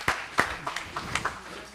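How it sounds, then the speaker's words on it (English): Scattered hand claps ring out in a church service, about half a dozen separate, fairly faint claps spread across a couple of seconds, with some voices underneath. "Why don't y'all give the Lord a hand clap tonight?"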